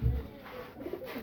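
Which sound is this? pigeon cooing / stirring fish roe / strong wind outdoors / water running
pigeon cooing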